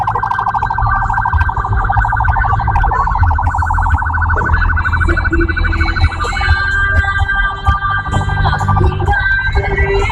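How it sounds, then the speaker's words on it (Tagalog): A loud wailing ambulance siren sounds steadily and close by over heavy traffic and rally crowd noise near the Quirino Grandstand, its tone cycling without pause. "May kita ang ambulansya."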